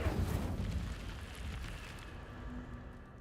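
An Incendio fire spell cast in the video game Hogwarts Legacy: a loud, rushing fiery burst that rumbles and slowly fades over about three seconds.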